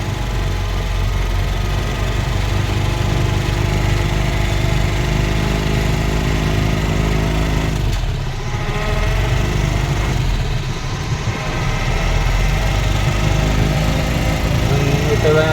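A loaded motorcycle engine labours on a rough uphill trip, a loud continuous droning hum with steady revs close to the microphone, dipping briefly midway.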